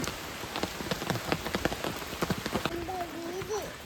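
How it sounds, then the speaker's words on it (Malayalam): Rain falling on a small house and its surroundings in Kerala, steady patter with distinct drops striking a nearby surface, while a person speaks partway through. "ഇവിടെ എപ്പോഴും മഴ അല്ലേ"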